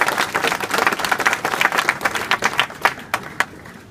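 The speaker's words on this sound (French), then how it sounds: "On peut applaudir" Applause from an audience at the inaugural speech of a book fair in Nancy, France, starts as a thick roar of clapping, then thins out into scattered individual claps toward the end.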